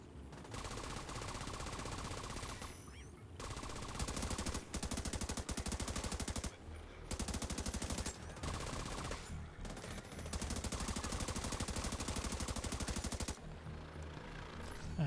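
Long stretches of rapid automatic gunfire from The Division 2 in hardcore mode, loud and sustained, broken by a few brief pauses between volleys, with no voices.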